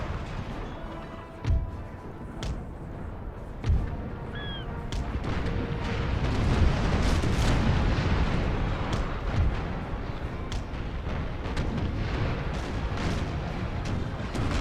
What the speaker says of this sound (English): by some serious cannon fire by the Russian Navy.